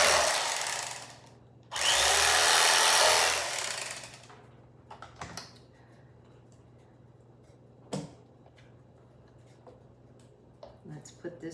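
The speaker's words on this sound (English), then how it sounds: "I'm just going to slice this tomato." A knife cuts a beefsteak tomato into quarter-inch slices for a salad, giving two loud, broad rasping strokes near the start, then quieter scattered taps and clicks on the board.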